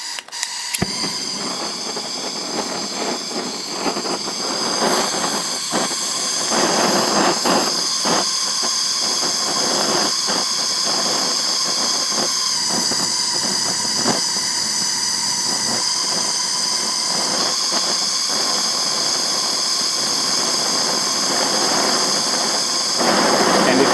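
A steady, loud hissing roar of a torch burning continuously while heating a ferro rod handle, with faint rattling and clanks scattered underneath.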